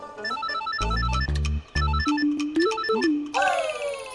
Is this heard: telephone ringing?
yes